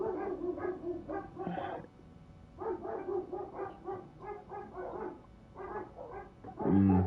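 Dogs bark in rapid repeated bursts with short yips, a couple of short pauses, moderately close and fairly loud.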